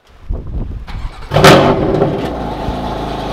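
A BMW M3 starts up nearby with a quick crank and a loud catch into a rev, then settles into a rough, rumbling idle as it begins to move.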